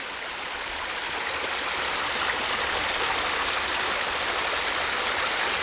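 Rainwater runoff after a night of heavy rain spills over an earthen bank in a steady, close, rushing flow with a constant hiss and no pauses or voices.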